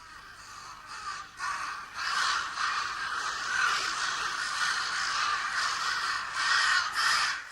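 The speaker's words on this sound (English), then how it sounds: "the crows are supposed to be attacking this helpless calf" Crows caw repeatedly in a dense, overlapping chorus throughout a film scene of a field with grazing cattle, loud and close with no voices.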